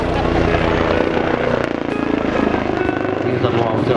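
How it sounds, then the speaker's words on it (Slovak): A helicopter flying horizontal turns at an air show in Slovakia, its steady rotor and turbine roar loud and continuous, close to the listener, with a slight dip midway. "Vrtuľník, ktorý je takisto lietadlo, ale s rotujúcim krídlom, predvádza zatáčky na horizontále, ale vie robiť určité prvky aj na vertikále."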